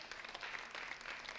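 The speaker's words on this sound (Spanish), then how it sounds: "Denle un aplauso al Señor" A church congregation applauding during a Spanish-language sermon, a thin, distant patter of many hands clapping steadily for a brief moment, fairly faint and without voices.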